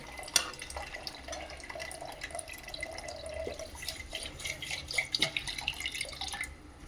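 Water pours and trickles into a pot of dubuk vada curry, a faint watery splashing with small drips, fairly quiet and close.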